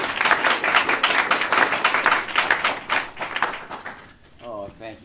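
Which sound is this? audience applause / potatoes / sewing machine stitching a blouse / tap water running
audience applause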